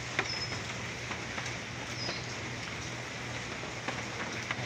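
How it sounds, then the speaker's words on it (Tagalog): Steady rain falling outdoors during a wet-weather day, a continuous even hiss with faint scattered drop ticks and a low steady hum underneath, no voices. "maulan ng panahon ngayon"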